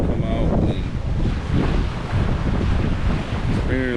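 Wind and ocean surf at the shore roar steadily and loudly throughout, gusting against the microphone, with faint tonal sounds briefly rising above the wash.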